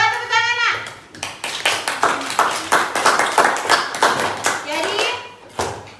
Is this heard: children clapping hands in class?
yes